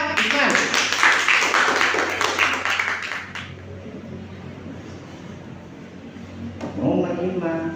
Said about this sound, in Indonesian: Tepuk tangan buat Iman.